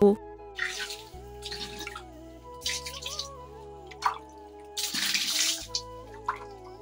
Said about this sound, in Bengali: এখন একটু চোখে মুখে জল দিব, হাত পা একটু ধোবো।